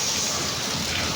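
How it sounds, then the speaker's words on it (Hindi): Heavy rain pours down in a dense, loud, unbroken roar of drops hitting surfaces, with no voices over it. "बारिश तो बहुत तेज़ हो रही है, बहुत ज़्यादा"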